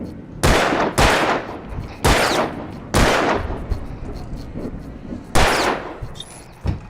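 Five loud, sharp gunshots from the video game Alan Wake Remastered ring out at uneven intervals, each followed by a brief echoing tail.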